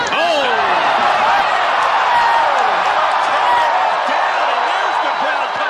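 A boxing crowd roars after a knockdown, a dense, loud, sustained wall of cheering and shouting in an arena that stays steady throughout, with an announcer talking over it.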